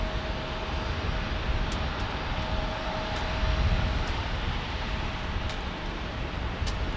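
Southwest airliners taking off at San Diego airport, a steady broad engine roar that holds loud and constant throughout, swelling slightly near the middle, with no talk over it.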